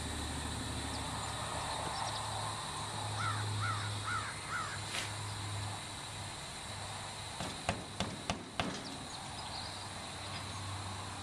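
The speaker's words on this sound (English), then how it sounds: "Hear that bird?" A crow caws in a short series of harsh calls, fairly clear over steady outdoor background noise, followed by a few sharp knocks.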